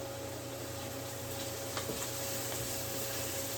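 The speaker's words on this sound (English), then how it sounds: "But right now, we are just still, you know, cooking the onions." Onions fry in a pan with a steady, close sizzle and a few faint stirring scrapes, no voices over it.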